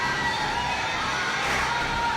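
Synchronized crowd war cry from the Fate/Grand Order game: a dense chorus of shouting voices holding a constant loud roar throughout, with no single speaker standing out.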